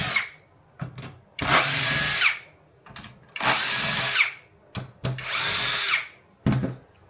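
Power drill driving screws out of the fender base of a Floatwheel Atom electric board, three loud sustained whirring bursts with short revving blips and clicks between them, close up with no talking.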